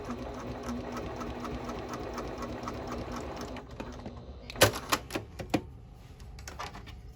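A sewing machine stitches steadily up the seam of a triple-zip fabric bag, with a close, continuous mechanical whir that stops abruptly. A few sharp clicks and clacks from handling the machine follow.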